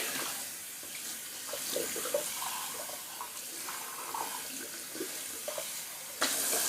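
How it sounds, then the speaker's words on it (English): Tap water runs steadily into a sink while a shaving bowl is rinsed out after lathering, a continuous close splashing with small clinks and a brief louder gush near the end. "Just gonna rinse out my bowl real quick."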